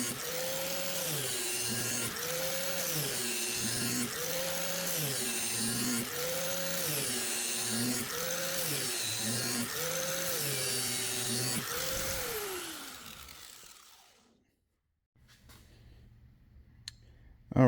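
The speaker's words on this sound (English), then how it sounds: "I've just got done sharpening this with my homemade sharpener." Lawn mower blade being ground on a homemade sharpener, a steady loud whine that rises and falls in a regular pulsing rhythm about every second and a half, then spins down and stops.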